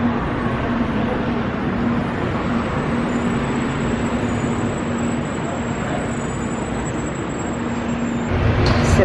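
Steady low rumble of a monorail car rolling along its track, heard from a front seat inside the cabin, continuous and even throughout with a slight swell near the end.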